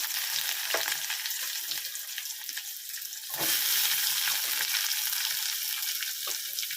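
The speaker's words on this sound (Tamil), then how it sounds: "இப்போ நம்ம வெங்காயத்தை சேர்த்துக்கலாம்." Onions sizzle and crackle in hot oil for a Tamil fenugreek curry, a bright steady frying hiss that swells louder midway as more is stirred in, close and alone without talk.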